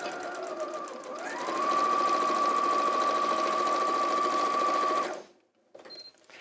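A domestic sewing machine stitches seams on a retro backpack in a steady, loud, continuous motor whir that rises in pitch after a second and holds for several seconds before stopping abruptly, leaving near silence and a faint rustle.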